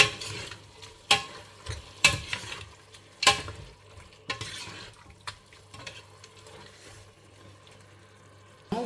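Biryani masala sautés in a pan with a steady sizzle under a series of sharp spatula scrapes and knocks against the metal, close by and with no voices.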